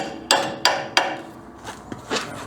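A hammer strikes a front suspension part on a 2007 Kia Sorento during a wheel bearing job, giving three sharp metallic blows in quick succession, then a couple of lighter taps, close and moderately loud.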